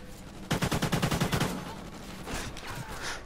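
Weapon fire in a shooter video game: a rapid automatic burst of about a dozen shots lasting roughly a second, fairly close, then fading into quieter game noise.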